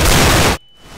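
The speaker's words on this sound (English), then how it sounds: "Flashbang." A flashbang grenade detonating in CS:GO, a loud wash of blast noise that cuts off abruptly into near silence and a thin high ringing tone.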